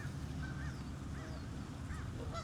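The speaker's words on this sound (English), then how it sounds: "My bad, these are geese." Geese honk intermittently at a distance beside a duck, several short rising calls scattered over a steady outdoor background hum.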